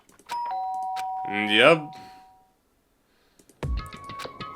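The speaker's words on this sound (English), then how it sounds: "did I hear the doorbell?" A two-tone chime sounds, first in the Danganronpa: Trigger Happy Havoc game, then rings again after a pause, with a brief spoken word and a melodic voice-like tone between.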